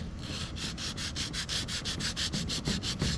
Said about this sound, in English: The first step, as I mentioned, is to lightly sand the surface